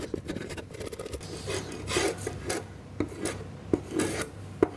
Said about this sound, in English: is a nice sharp spoke shave. And we just follow the contour